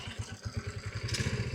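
A Honda ATV engine idles right after starting, a steady close low chugging pulse with a faint rattle, no voices.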